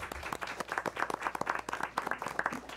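A school board meeting audience claps for middle school student presenters, scattered distinct hand claps at moderate loudness with an uneven rhythm across a few seconds.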